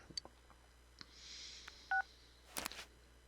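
In the video game Persona 4, a phone call sounds as a single short electronic beep of two pitches, clear but quiet among faint clicks and soft background noise.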